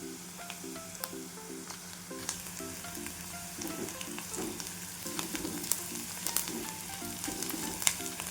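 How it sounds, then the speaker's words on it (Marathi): Potato bhaji roasting in a pan after red chili is added, giving a steady close sizzle and crackle with occasional spatula stirs and scrapes, and no talking. "छान भाजून घ्यायचं आणि लाल मिरची टाकत आहे मी"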